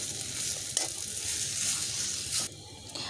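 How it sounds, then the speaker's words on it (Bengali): Potato filling with garam masala sizzles in a pan while being stirred, a close, steady frying hiss with a couple of soft scraping knocks and no voices. "দিয়ে দিচ্ছি গরম মশলা। এখন আমি এটাকে ভালো করে মিশিয়ে নেব।"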